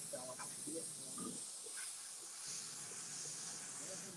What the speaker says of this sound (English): So then this is just more like direct steam.